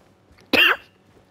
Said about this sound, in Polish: Ogólnie przepraszam za kaszel.